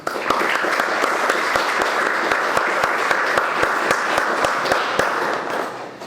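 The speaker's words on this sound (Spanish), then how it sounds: "aplauso." An audience applauds two academic speakers being welcomed at a humanities lecture event, a steady, dense wash of clapping with a few sharp individual claps standing out, sustained at even loudness before tapering at the end.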